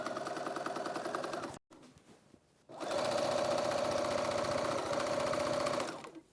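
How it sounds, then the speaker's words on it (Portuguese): A sewing machine fitted with a quilting foot runs in loud, rapid stitching bursts close by while sewing around a fabric baby nest to hold the batting, pausing briefly for about a second before starting again. "estou a fazer uma costura para além desta, com a largura do calcador de quilt, a toda a volta, para prender o batting"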